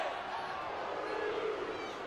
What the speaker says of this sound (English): the Crowd coming to life truly for the first time tonight here at Dudy Noble